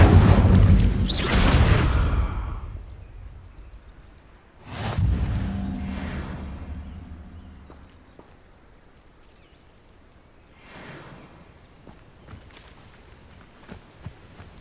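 Spell effects from Hogwarts Legacy, an Incendio fire spell cast in the ruins, burst out as loud whooshing blasts near the start and again around five seconds, each fading off, with a softer swish later and no talk.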